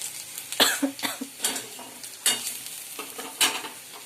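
Chopped onion fries quietly in a pan on a gas stove for spicy wheat vermicelli, with a soft sizzle under a series of sharp spatula scrapes and stirs that come in irregular bursts.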